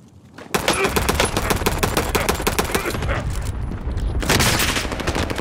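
Rapid automatic gunfire in a shooter video game, a dense loud burst of shots that starts abruptly and runs almost continuously with a brief lull near the end.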